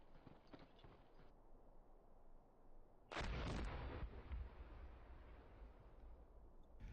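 Video game gunfire in a military combat scenario, with a couple of faint shots, then a heavy, close boom like artillery that rumbles and fades over a few seconds before quieter firing resumes.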